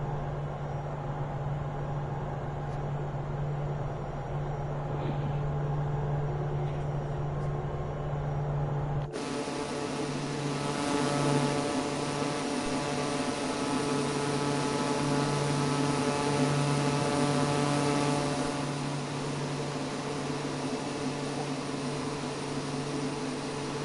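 Pilatus PC-12 VIP turboprop engine in Microsoft Flight Simulator 2024, a steady droning whine with a low hum that holds throughout, shifting to a brighter, fuller tone partway through, with no talk.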